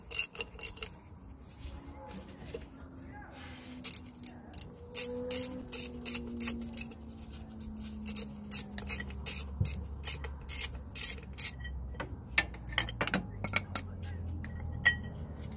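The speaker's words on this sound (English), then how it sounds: "I'm just gonna use a 10 mil socket and the ratchet to slacken off this sensor." A 10 mm socket and ratchet slacken a rear ABS sensor on a Nissan Qashqai, producing close bursts of sharp metallic clicks and small clinks that grow busier toward the end, with faint low rumbling beneath.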